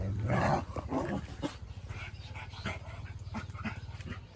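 A farm dog on a rural Gujarati maize-sowing plot barks repeatedly in a quick, uneven series, fairly close and moderately loud, over steady outdoor background noise.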